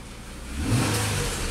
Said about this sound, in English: Let's rev up the engine.